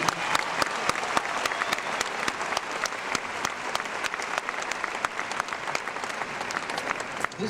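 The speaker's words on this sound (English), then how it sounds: "Congratulations, and give yourselves a hand" Graduation audience applauding the graduates at a ceremony, a dense, steady wash of many hands clapping throughout with sharp individual claps standing out, no voices over it.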